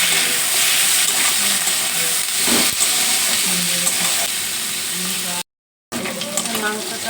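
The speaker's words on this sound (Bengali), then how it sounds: "স্যুপের যে মাংসটা সেটা ভেজে নেব।" Chicken meat for a homemade chicken momo soup fries in a pan with a loud, steady close sizzle and hiss. Faint stirring scrapes come through, and the sound cuts out briefly near the end.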